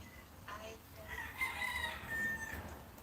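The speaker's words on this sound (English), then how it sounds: "The cock are crowing so loud." Roosters crowing faintly in the distance, one drawn-out call rising and falling against a low, steady background hum.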